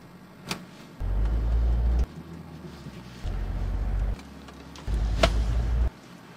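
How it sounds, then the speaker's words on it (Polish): A Jaguar F-Pace P400 SUV climbs a hill in bursts of low engine drone that rise and drop back several times. The sound is fairly quiet, with brief clicks between the surges. "sprawdźmy faktycznie, jak F-Pace radzi sobie właśnie w takim naszym tradycyjnym podjeździe"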